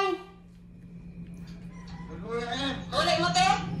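A rooster crowing nearby outdoors, a drawn-out call rising and strengthening toward the end, heard alone over a steady low hum.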